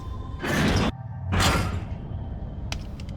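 Door opening in the horror video game Penumbra Overture: two loud creaking, scraping bursts in quick succession, close and heavy, followed by a few faint knocks.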